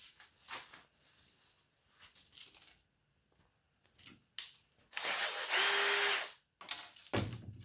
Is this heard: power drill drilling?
yes